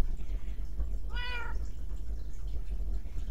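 A single cat meow in the Minecraft video game, clear and rising then falling, lasting about half a second over a steady low game hum, with no talk.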